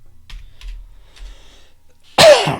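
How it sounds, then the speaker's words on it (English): A single loud, sharp cough right into a microphone, close and abrupt, after a couple of seconds of near silence with faint low clicks. "I think I have my sound up too high to be coughing into the microphone"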